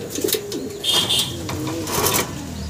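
A pair of fancy pigeons in breeding mood coo close by, with soft repeated rolling coos and a couple of brief higher chirps, recorded alone without talk.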